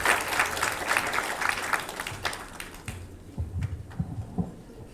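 Audience at a Philippine mining industry forum applauds a speaker being welcomed, dense clapping that thins out after about three seconds into scattered low thumps and faint voices.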